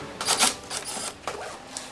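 Silver fixing screws are undone on the lower filter section of an older LG stand air conditioner, giving a few short, close metallic clicks and ticks in a quick irregular burst.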